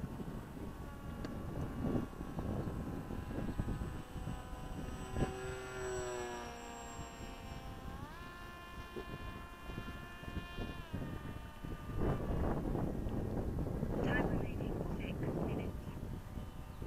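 A TechOne Popwing RC plane flying by, its electric motor whine rising and falling in pitch as it passes, heard under wind noise and a voice.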